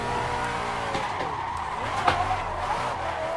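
Rocket Bunny widebody Nissan 350Z with a V8 swap drifting in Assetto Corsa, with a steady loud engine drone and a continuous tire squeal sweeping in pitch throughout.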